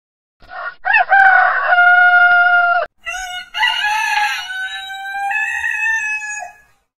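A rooster crows loudly twice in a row, each call long and drawn out, with no other sounds around it.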